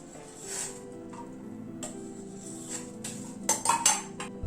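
A metal spoon clinks against a pot while foam is skimmed off boiling masoor lentil dal, scattered close taps and scrapes over a quiet background, with a brighter cluster of clinks near the end.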